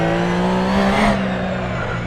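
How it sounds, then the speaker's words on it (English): A Porsche in a racing sim game holds a loud, steady engine note with a high gear whine on top, rising slightly and then easing, close and continuous. "This Porsche sounds awesome too. Love the engine note and I love the gear whine."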